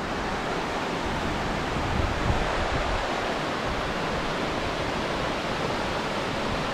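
A waterfall in Spearfish Canyon, South Dakota, pours as a steady broadband rush of water, constant and fairly close, with faint wind buffeting and no voices.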